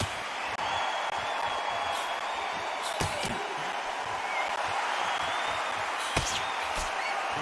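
An arena crowd in the boxing game Undisputed murmurs and buzzes steadily, with scattered sharp thuds and claps rising from the dense background noise.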